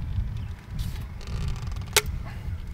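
A plastic tail fitting being unscrewed from a Gardena garden hose reel gives a soft, close creaking twist over a low rumble, with one sharp click near the end.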